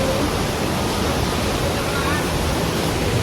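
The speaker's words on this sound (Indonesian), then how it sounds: "Air terjun Grojogan Sewu." Steady, dense rushing roar of the Grojogan Sewu waterfall in a forest in Indonesia, broadband and unbroken from start to finish, loud and close.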